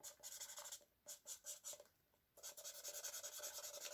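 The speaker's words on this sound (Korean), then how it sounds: "색깔은 유성 매직으로 색깔을 칠해 보도록 하겠습니다" An oil-based permanent marker rubs back and forth over a paper cup in quick, close, quiet strokes, pausing briefly before resuming a steady scratchy coloring rhythm.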